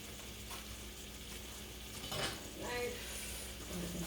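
Sliced potatoes for a spicy Spanish omelet sizzle quietly in a pan, a soft steady frying hiss with a brief louder stir or scrape partway through.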